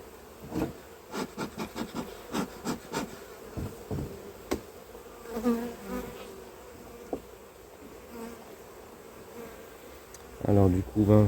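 Honeybees buzzing around a hive frame during a September hive inspection, a continuous close hum with a series of sharp rhythmic knocks and scrapes early on, and a louder rasping burst at the end.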